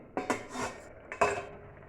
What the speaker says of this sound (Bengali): এবার ঢাকাটা খুলে দেখি কী অবস্থায় আছে